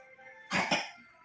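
A single short cough from a child, quiet and close, standing alone in a still room.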